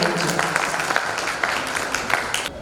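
An audience at a cultural event honoring Padma Shri Malini Awasthi bursts into steady applause, a dense continuous clapping that fills the space before trailing off.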